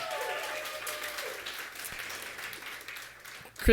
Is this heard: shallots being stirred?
no